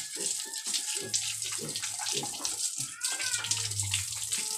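Water poured over a piglet while washing it, with splashing and running water in uneven bursts and a person talking over it.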